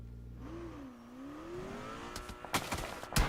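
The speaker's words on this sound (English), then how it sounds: "they can hear those shots in the distance." Gunfire in the PUBG Mobile battle royale game, a few sharp shots cracking at a distance over the steady drone and rising rev of a car engine.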